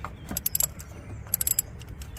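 A ratchet tightens a bolt on a car during an oil and filter change, making quick bursts of close, light metallic clicking separated by short pauses.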